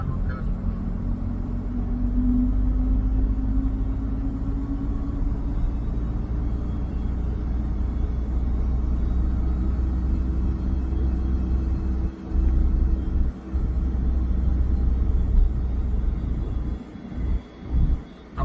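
A car creeps slowly along during a driving lesson in Lucknow, a steady low engine rumble and road noise heard from inside the cabin, with a few brief dips and soft thumps toward the end.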